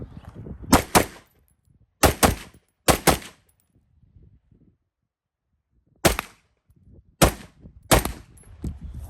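Gunshots ring out at shooting practice, sharp loud cracks in two clusters, three close together, a pause, then three more, each with a short echoing tail.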